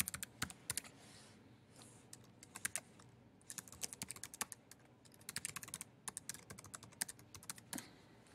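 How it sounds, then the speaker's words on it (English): A student number is being typed on a computer keyboard: quick clusters of light, crisp key clicks in irregular bursts with brief pauses, close and fairly quiet, with no talking. "I'm just going to type one in here and see if I get a student number."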